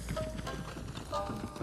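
Horse hooves clip-clop in Ghost of Tsushima near the samurai stables, a soft, uneven trot of steps over a steady game-world ambience.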